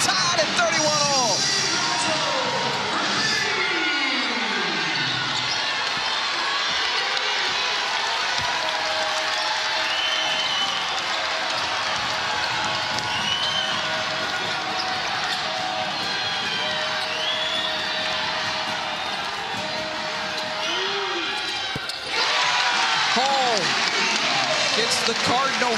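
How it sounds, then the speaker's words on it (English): A basketball arena crowd at an NCAA women's tournament second-round game, Kansas against Stanford, cheers and applauds loudly and continuously, with a commentator talking over the roar. "The Cardinal faithful cheering again"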